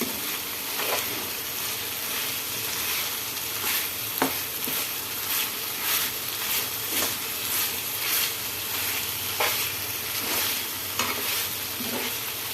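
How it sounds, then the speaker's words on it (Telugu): Onions and masala frying in a pan, a dense steady sizzle with repeated scraping stirs scattered through, close and continuous with no voices. "ఉల్లిపాయలతో పాటుగా మసాలా వేయించుకోవాలి"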